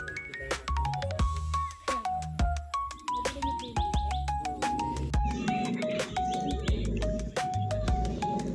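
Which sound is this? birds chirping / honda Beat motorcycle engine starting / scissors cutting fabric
birds chirping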